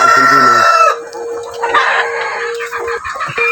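Chickens and a rooster on a Filipino backyard farm, with a loud rooster crow opening and hens clucking steadily close by, brief squawks scattered through the rest.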